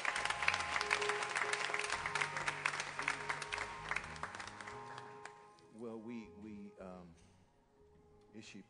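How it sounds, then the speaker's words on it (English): Dense congregation clapping fills a church during Sunday service for several seconds, then fades as a voice begins speaking over the tail end. "Let's give God another hand clap of praise."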